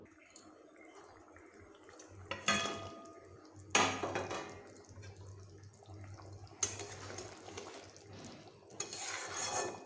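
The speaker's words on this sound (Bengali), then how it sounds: "মাছের সঙ্গে ঝোলগুলোকে এইভাবে ভালোভাবে মিশিয়ে নিচ্ছি" Fried rohu fish being stirred into curry gravy in a pan, quiet wet scraping and sloshing that comes in several short bursts separated by near-silent pauses.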